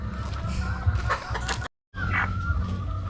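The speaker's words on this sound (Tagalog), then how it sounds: "So yun yung manok natin, oh." A chicken sick with coryza clucks close by in short, repeated calls, with a brief silent gap midway.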